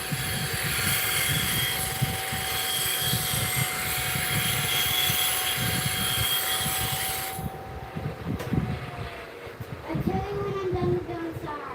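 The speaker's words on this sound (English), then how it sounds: "let me hit my spindle gouge with CDN wheel and we'll get right back into it" A spindle gouge is pressed against a spinning CBN grinding wheel, giving a steady, loud, close grinding roar that stops after about seven seconds, leaving a low motor hum as the wheel spins down.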